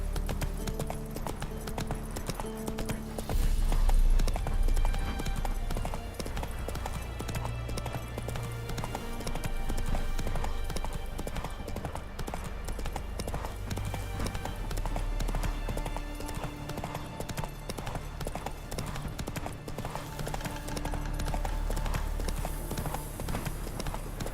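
Roach the horse from The Witcher 3 trotting on, a steady run of hoof clip-clops blended into dense game music and ambience throughout.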